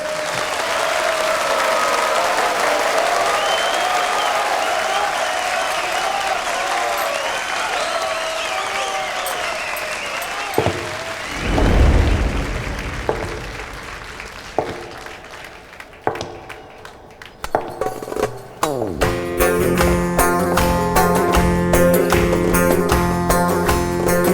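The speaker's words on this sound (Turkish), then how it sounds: "Alkışlarınızla Dilber" An audience at a Turkish television show breaks into sustained applause, dense clapping and crowd noise that holds loud for about ten seconds, then thins out as music and scattered sounds take over.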